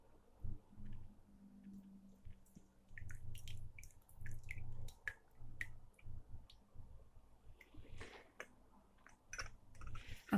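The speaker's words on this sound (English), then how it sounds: "it's time to pour out that perfect refreshing cup of white and peppermint tea." White and peppermint tea is poured through a strainer into a cup. Soft, close drips and trickles mix with faint clicks and a wet squish, quiet throughout with no talk.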